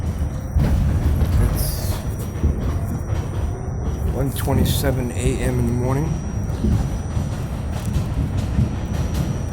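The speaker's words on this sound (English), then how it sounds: "As you can tell, I'm riding on a train" Loud, continuous rumble and clatter of a moving subway train in New York City late at night, heard from inside the car, with someone talking over the noise and brief screeching tones midway.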